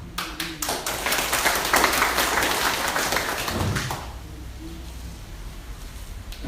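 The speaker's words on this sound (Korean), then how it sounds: "우리가 박수 한번 보내주십시오." An audience at a disabled veterans' welfare hall in Seoul bursts into dense applause that swells for a few seconds, then fades out, leaving a quieter room with faint movement.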